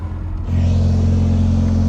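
A Porsche 911 with a swapped-in Honda K-series engine revs on a dyno, a steady deep roar that steps up sharply about halfway through and holds loud and sustained to the end.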